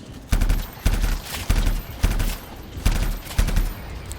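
Player's guns firing in the Anthem video game, loud rapid bursts of gunfire repeating roughly every half second, each with a sharp punchy attack and short rattling tail.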